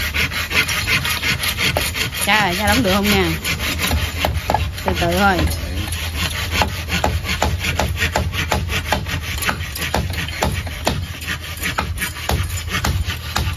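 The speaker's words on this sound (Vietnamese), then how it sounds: "mình đo rồi mình cưa ra" Wood being cut into pieces with a hand saw during construction of a rural kitchen, giving a steady run of rasping back-and-forth strokes close by, with brief talk between family members partway through.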